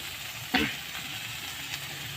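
Oil sizzles steadily in a pan, with one sharp burst of sizzling and scraping as fried spices are stirred in, then settles back to a low fry.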